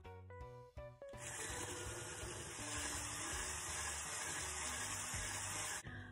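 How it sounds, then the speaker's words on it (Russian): An electric hand mixer whirs steadily and loudly while beating softened butter with sugar, preceded by a few brief clicks and knocks before the motor starts, then running continuously until it cuts off near the end. "Масло с сахаром взбиваю миксером в однородную массу."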